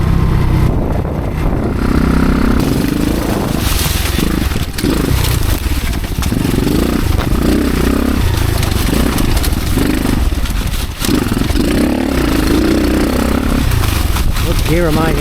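An X-Pro Storm 150 pit bike engine revs and drones loudly throughout a ride, rising and falling with throttle changes and wind buffeting, while a rider talks over it.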